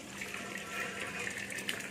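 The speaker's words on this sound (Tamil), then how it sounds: "இப்போ இந்த வடிகட்டியில் இதை அப்படியே கொட்ட வேண்டியது தான்." Hot water and freshly boiled rice pour from a pot into a strainer, a steady splashing gush running for a couple of seconds at moderate volume.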